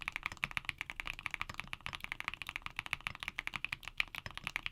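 HMX mechanical keyboard switches being typed on in a rapid, even patter of crisp clacks, close and continuous, with no voices.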